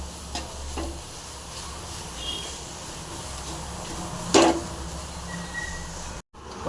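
Raw mango pieces are stirred in a hot pan as they dry out, a steady soft sizzle and hiss with occasional scraping strokes of the spoon and one sharp clink partway through.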